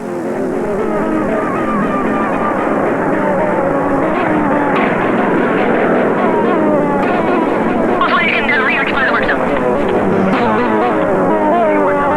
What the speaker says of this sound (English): Darrell and the others take off from Thule